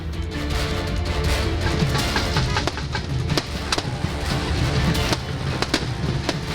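Fireworks crackle and pop in dense, continuous bursts over a loud, noisy background, with sharper bangs scattered throughout, during celebrations in Uttarakhand, India.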